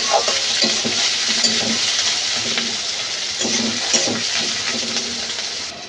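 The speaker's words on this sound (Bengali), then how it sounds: "এই পেঁয়াজটা আমি হালকা লাল লাল করে ভেজে নেব" Chopped onion sizzles steadily in a hot kadai with whole cumin, fried until lightly reddish, a loud, continuous close frying hiss with faint stirring scrapes and no talking.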